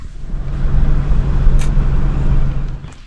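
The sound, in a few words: car driving into campground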